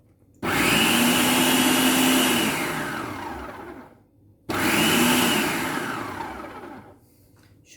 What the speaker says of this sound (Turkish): Şu kalan patatesi çekeceğim bakalım.